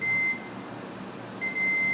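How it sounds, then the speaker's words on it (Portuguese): A multimeter in continuity mode beeps while a diode on a cell phone circuit board is tested, a loud steady electronic tone heard twice, split by a short quiet gap. "Se ele bipar aqui, significa que ele é o negativo"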